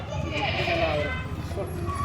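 Kathiawadi goats bleat at a busy goat sale, their calls mixed with people talking nearby.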